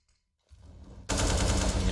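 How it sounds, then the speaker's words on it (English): Rapid MP9 submachine gun fire in Counter-Strike: Global Offensive, a sharp, dense burst that starts faint and then rises to a loud, sustained full-auto stream of shots. "The SMGs, they shoot through you. Too many bullets down range at once."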